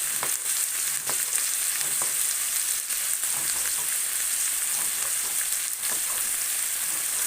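Onions fry in a pan for sausage, a steady close sizzle with scattered crackles and pops, the hiss holding level throughout with no talk.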